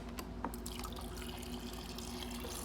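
Chilled water pouring steadily from the door dispenser of a Kenmore Elite French-door bottom-freezer refrigerator, a continuous close trickle and splash lasting a few seconds, with no talking.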